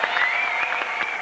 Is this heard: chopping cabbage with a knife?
no